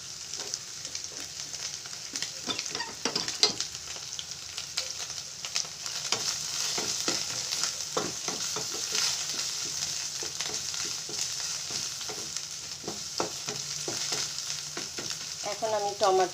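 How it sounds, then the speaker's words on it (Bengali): Breakfast sizzles in a frying pan, an even hiss of hot oil up close with irregular taps and scrapes from stirring, no one speaking. "তো ভালোভাবে ভাজা করে নেব।"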